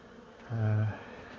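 A single honey bee flies close past a large, long-established hive, giving a loud, brief buzz of under half a second that rises and fades over a quiet background.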